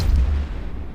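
A Gallente Thorax cruiser blows up in the space game EVE Echoes, giving a deep, rumbling boom that starts strong and slowly fades over about a second, with no speech.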